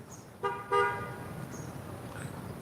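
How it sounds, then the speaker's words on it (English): Two short car horn toots sound from some distance near a lighthouse fishing spot, a brief beep followed quickly by a slightly longer one, over faint background noise. "Who honked over there?"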